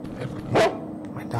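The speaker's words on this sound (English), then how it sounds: "Dog is attacking her" A dog in a video game, set in a horror game about Nina the Killer, gives a single sharp bark while attacking a character, loud and close, with people talking over and around it.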